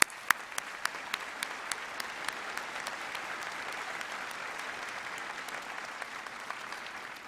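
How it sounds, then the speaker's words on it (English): Applause at a 2023 veterinary (DVM) commencement ceremony, a steady field of many hands clapping at moderate distance, with a few sharper close claps standing out at the start and fading gradually. "Let me just do a round of applause to thank them all."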